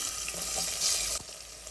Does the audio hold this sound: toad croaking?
no